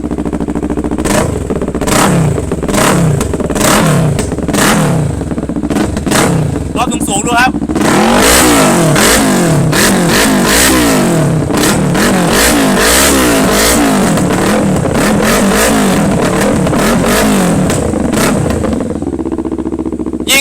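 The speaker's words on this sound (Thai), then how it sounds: "ผมลองเบิ้ลรอบต่ำๆถึงรอบสูงๆดูนะครับ" A 2017 Kawasaki Ninja 650 motorcycle engine revs repeatedly from idle to high, loud and close, its pitch climbing and falling in surges with a mechanical clatter underneath.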